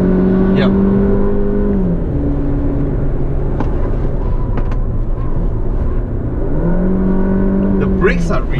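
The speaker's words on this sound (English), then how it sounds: "so you need to reapply the throttle and get it boost up the turbos again" A Peugeot 3008 SUV with a 1.6 turbo engine drones steadily and loudly under throttle, then its pitch climbs as it accelerates again near the end.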